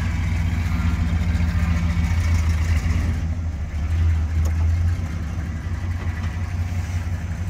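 A 1970 Plymouth Fury barn find idles with its engine running, a steady low rumbling drone that swells slightly in the middle, close up and heard on its own without talk.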